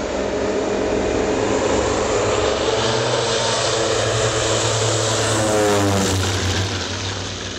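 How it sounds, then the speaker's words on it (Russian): An Il-14 propeller airplane roars loudly and steadily as it takes off from Tushino airfield, the engine drone swelling and peaking toward the end before easing slightly. "после чего самолет поднялся в воздух"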